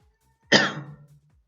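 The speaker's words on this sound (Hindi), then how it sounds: "आज फिर खांसी हो रही है मुझे।" A single sharp cough bursts out loud and close, tailing off into a brief rough throaty sound, with quiet before and after.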